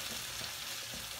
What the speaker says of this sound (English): Saute the tuna. Keep sauteing.